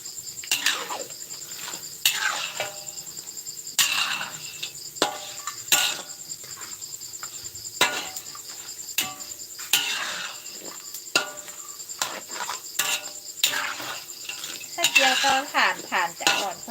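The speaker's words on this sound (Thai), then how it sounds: "ฟังเสียงตะหลิวกับกระทะก็พอเนาะ" A metal spatula repeatedly scrapes and clanks against a frying pan while frying pork cracklings, in quick irregular strokes, close and clear, with a faint high insect-like whine throughout.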